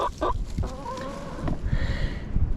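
Chickens cluck softly inside their coop in the Vermont mountains in winter, with short, scattered calls over a low background rumble.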